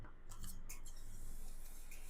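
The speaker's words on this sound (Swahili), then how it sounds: "alafu nakata" Scissors snip through fabric while a sleeve head is sewn, giving a few close, crisp cutting strokes in a quiet room with no talking.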